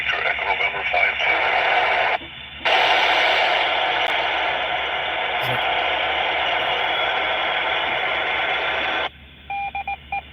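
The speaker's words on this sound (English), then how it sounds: "There's the beacon from the space station." A radio picks up the FM repeater beacon from the International Space Station as a loud, steady stretch of noisy, buzzing signal lasting several seconds, with short tone bursts and crackle before it and after it.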